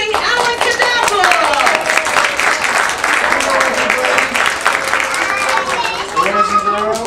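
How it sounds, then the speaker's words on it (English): Audience clapping and applause at a children's magic show fills the whole stretch, steady and loud, with crowd voices and music-like tones mixed over it. "Let's have a big clapping applause for the amazing Alan Cadabra"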